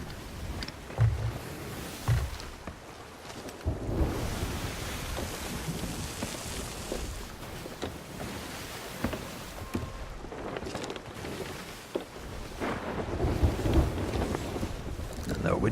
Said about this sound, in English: And there would be a storm.